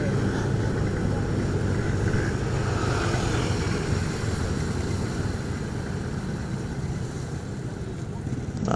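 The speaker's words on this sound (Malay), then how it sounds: "Semua naik kapcai hari ni" A group of small kapcai motorcycles rides together on a road in Johor, making a steady, loud, close roar of engines and wind that continues unbroken throughout.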